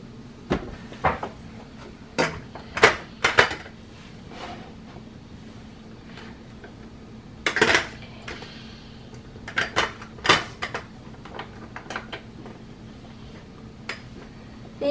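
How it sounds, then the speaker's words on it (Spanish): A metal lid is fitted onto a pressure cooker of beef stew, a series of sharp clanks and knocks spaced irregularly over several seconds, close and distinct against a quiet background. "Ya está listo, entonces vamos a tapar nuestra olla"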